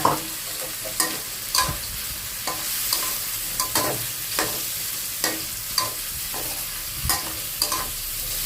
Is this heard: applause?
no